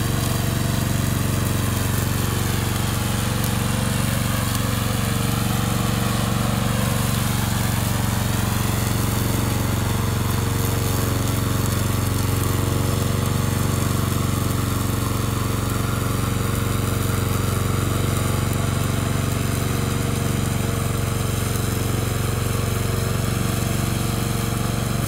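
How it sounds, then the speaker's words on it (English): A radio-controlled brush mower runs steadily with a loud, constant engine drone and mechanical whine, unbroken for the whole stretch, with no voices. "Today I'm glad to introduce our remote controller mower."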